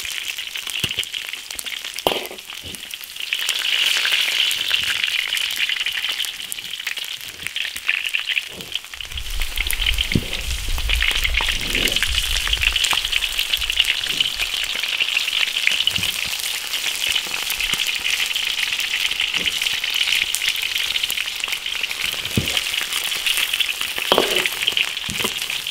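Pork ribs pan-frying over low heat in a wok of oil, giving a steady, loud sizzle and crackle with occasional sharp pops and a brief low rumble midway, no voices.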